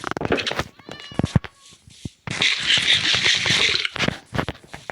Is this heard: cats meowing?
yes